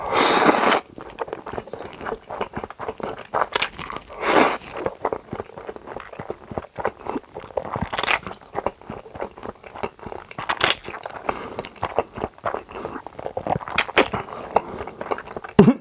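Someone eating Outback spicy Toowoomba pasta and garlic steak, with close, crisp bites and crunches recurring irregularly alongside soft chewing and scraping, no talking.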